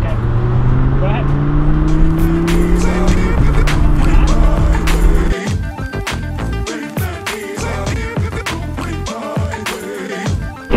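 A Lamborghini Huracan in sport mode sweeps through a rising, aggressive engine drone that climbs in pitch across gear changes for about five seconds, then gives way to clattering rattles and thumps as speech mixes in.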